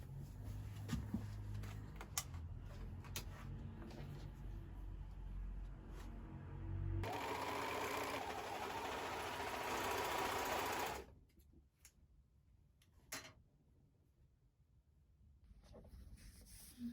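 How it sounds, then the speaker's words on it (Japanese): A sewing machine stitches patchwork blocks and lattice strips, a steady close mechanical whir running continuously for about eleven seconds before stopping, followed by quieter handling noises. "この長さの、ラティスを作って、縫うっていう感じに"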